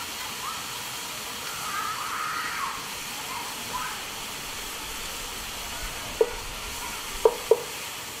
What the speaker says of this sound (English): we're going to give that a little bit of a sear as well.